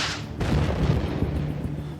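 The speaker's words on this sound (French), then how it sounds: "Le lance-roquette, ou bazooka, qui tire son nom de l'instrument de musique joué par un célèbre comique de l'époque." Bazooka rocket launcher firing in a World War II combat setting: a sharp blast opens, then a dense, sustained rumble of booms and gunfire fills the remaining two seconds.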